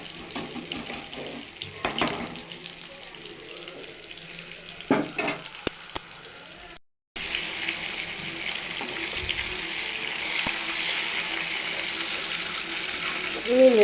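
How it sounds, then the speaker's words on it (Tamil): Fish sizzles and fries in a pan, a soft crackling hiss that grows steadier and louder in the second half after a short pause, with occasional clatter and faint voices in the background. "மீன் வெந்துருச்சு"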